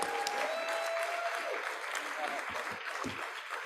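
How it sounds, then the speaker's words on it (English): Conference audience at a national convention applauding, a broad sustained wash of clapping that gradually thins toward the end, moderately distant, with a faint voice or tone briefly heard over it. "let's give him a round of applause and Drupal for that."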